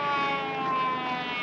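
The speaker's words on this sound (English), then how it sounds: "An ambulance." An ambulance siren wails steadily at moderate distance, a sustained tone with a slight drift in pitch and no voices over it.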